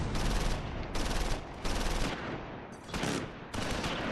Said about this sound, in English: We're taking fire from the east at the Martelange flag.